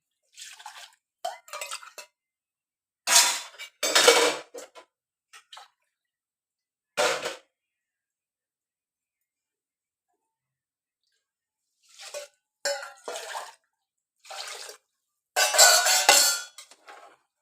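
Water for rice goes into a pressure cooker in short, separate pours and splashes with long quiet gaps between them.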